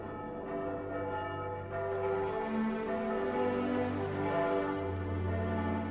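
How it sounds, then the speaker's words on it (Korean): Church bells ring out in victory celebration in a World War II Britain setting within a video game, a sustained, layered peal of tolling tones that swells and continues steadily, fairly loud and with no talk. "영국 전역에서 교회의 종소리가 다시 울려 퍼졌다"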